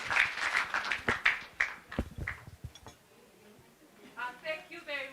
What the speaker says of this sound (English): Can we clap for our female youth?